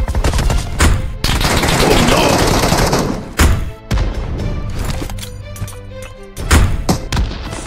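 Heavy gunfire and grenade launcher blasts from a tactical shooter game, fought around a school building and a tree. Loud, dense bursts of shots and booming explosions come in rapid succession, with brief pauses between volleys.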